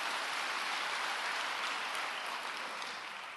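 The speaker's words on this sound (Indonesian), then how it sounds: "Yang percaya tepuk tangan bagi Allah kita." Church congregation clapping together during a sermon, a soft, dense, even wash of many hands from a distance that slowly fades toward the end.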